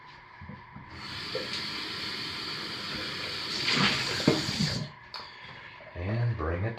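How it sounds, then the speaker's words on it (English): Lye water poured slowly into soap-making oils, a steady liquid trickle and hiss that swells midway and stops near five seconds, with brief talk at the end. "pour the lye water into the oils."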